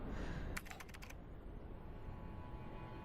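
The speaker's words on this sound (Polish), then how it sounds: "klikniemy sobie parę razy w klawiaturę po prostu" A quick burst of several computer keyboard clicks near the start, close and crisp, then a quiet hum of room noise for the rest.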